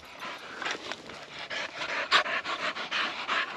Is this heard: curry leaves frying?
no